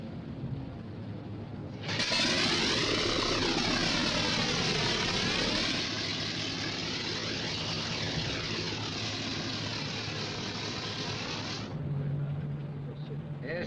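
Old propeller aircraft engine starting on the ground: it catches after a short pause and builds into a loud, steady, close roar that runs for about ten seconds before dropping back to a lower rumble.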